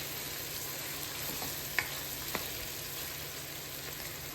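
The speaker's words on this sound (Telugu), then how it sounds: "ఇలాగా బాగా మిక్స్ చేసుకుని ఇంకొక 5 నిమిషాలు ఉడికించుకుందామండి." Mutton curry sizzles steadily in a pan as it is mixed, with a constant frying hiss and a few faint scraping clicks from stirring.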